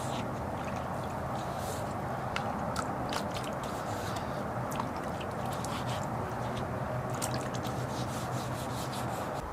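Wet sanding primer on a Greddy lip fitted to a Lexus IS300, a steady continuous rubbing and scrubbing with grainy wet friction, close and even throughout with no talking.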